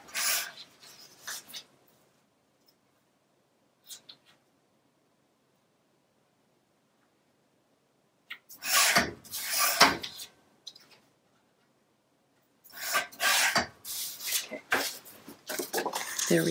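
Paper being trimmed to size for a Graphic 45 Alice's Tea Party scrapbook page, heard as brief scraping and slicing strokes close up, with long quiet gaps between clusters of cuts and handling noise.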